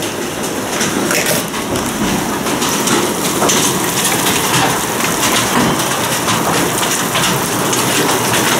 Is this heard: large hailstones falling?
yes